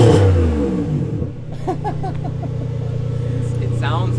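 A V12 Toyota Century fitted with a new X-pipe exhaust revs up loudly at close range, its engine note rising and then settling into a steady smooth drone, with people talking over it.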